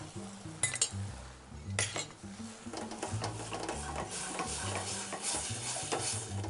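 An orange-leaf sauce cooks in a pot as a utensil stirs and clinks against the metal, with irregular close scraping and knocks over a faint bubbling sizzle.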